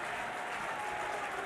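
Steady crowd applause fills a college baseball game between Georgia Tech and Oklahoma, a dense, even wash of many hands clapping throughout.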